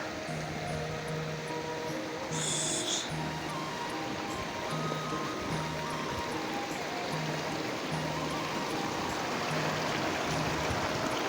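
A mountain stream rushing steadily nearby, a continuous watery roar, with faint tonal sounds occurring repeatedly in the background.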